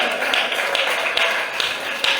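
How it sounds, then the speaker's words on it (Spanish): Applause from a church congregation during a worship service, a steady dense patter of many hands clapping with a few sharper accents, continuous and fairly close throughout. "aplauso a Él esta mañana"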